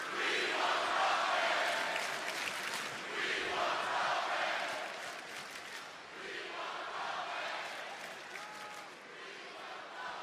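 A wrestling arena crowd roars and chants for Roman during a WWE Raw broadcast, a distant wash of cheering and applause in swelling waves, with occasional voices over it.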